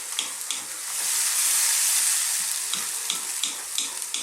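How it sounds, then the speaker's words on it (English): A pan of tomato, cream and cheese sauce stirred over heat, a soft steady sizzle with rhythmic scraping strokes of the spoon, close and moderately loud. "So let's give this a nice mix."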